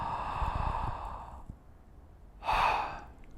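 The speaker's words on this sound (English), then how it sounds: "just say a nice ah, and then keep that shape and breathe in." A single deep breath drawn in with an open throat, as if shaping an ah, in saxophone breathing practice: a breathy exhale first, a short pause, then a loud airy inhale near the end.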